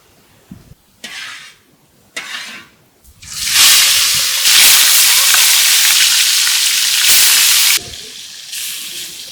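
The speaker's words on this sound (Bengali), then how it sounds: "মাছগুলা দিয়ে দিয়েছি গরম তেলে" Pieces of katla fish slide into hot oil in a village-style kitchen, setting off a loud, steady sizzle and crackle that runs for several seconds after brief softer frying sounds.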